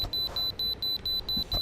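A repeating electronic beep from American Truck Simulator pulses steadily about six times in a second and a half, clear and moderately loud over a low engine rumble.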